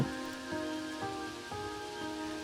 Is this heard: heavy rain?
yes